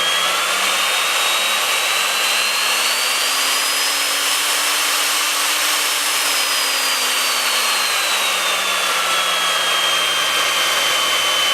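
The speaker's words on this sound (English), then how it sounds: "that is that wonderful nice router made by Craftsman" Craftsman 14 A 2.5 HP variable speed router running alone at a steady, loud, high-pitched whine, its motor pitch slowly rising and then falling as the speed setting changes, with no voices.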